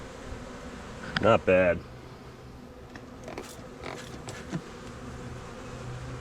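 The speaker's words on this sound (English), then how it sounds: "Not too many bees in here. Just a few bees, a drone, a couple bees." Honey bees drone softly inside a swarm catch box, a faint, continuous buzz close by. A brief spoken word cuts in near the start.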